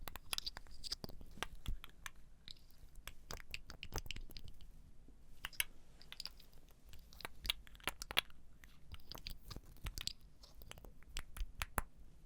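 Quiet clicks, taps and faint crinkly scrapes of an empty glass perfume bottle being handled up close, irregular and continuous with no talking.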